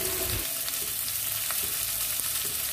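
Onions sizzling in hot oil and being stirred briefly in a pan while preparing kakrol fry, a constant close frying hiss with soft scraping strokes.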